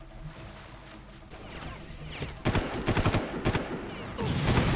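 Rocket explosions and blasts in the Far Cry video game, several loud bursting impacts in quick succession after a quieter stretch of background gameplay noise.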